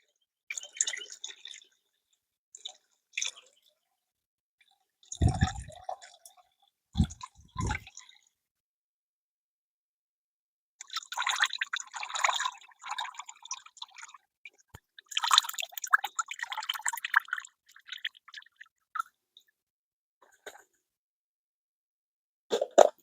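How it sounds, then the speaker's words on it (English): Water that has soaked banana pieces is poured from a spout onto garden plants, giving a few short splashing bursts and drips separated by silences. "So I am going to pour this in."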